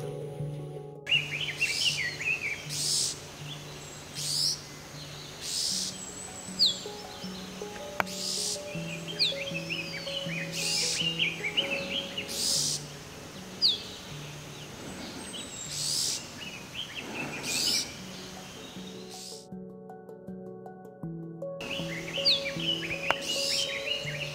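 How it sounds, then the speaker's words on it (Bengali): A gray-backed shrike calls in the North Bengal countryside near Mairungaon, giving repeated harsh, bright notes at short intervals over a constant backdrop of insects and other distant birds. "Gray-backed shrike."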